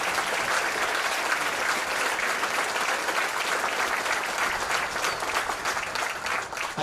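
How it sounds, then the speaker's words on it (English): An audience at a Marine Corps graduation ceremony applauds family members, giving dense, sustained clapping from a sizable crowd that holds steady for several seconds and eases slightly near the end. "Ladies and gentlemen, let's give these family members a round of applause."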